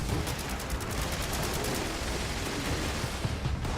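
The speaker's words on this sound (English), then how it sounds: "5 more minutes of constant grenades." Grenade explosions in the video game Fallout 76, a dense continuous barrage of blasts and crackling gunfire-like bursts, loud and unbroken for several seconds.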